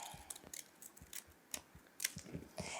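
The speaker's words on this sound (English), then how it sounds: "It's dangerous working with scissors, so go very slow." Scissors snip through paper in a quick, irregular series of crisp close cuts, about a dozen short bursts with brief pauses between, in a quiet room.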